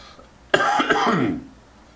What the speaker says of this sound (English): Got to get over this cough.